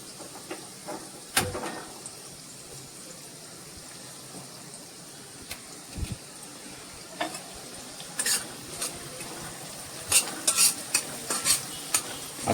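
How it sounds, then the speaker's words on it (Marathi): Onion being stirred and roasted in a pan until translucent, a soft background sizzle broken by scattered spatula scrapes and clicks against the pan, growing more frequent toward the end. "हा कांदा भाजायचा आहे ट्रान्सलुसंट होईपर्यंत."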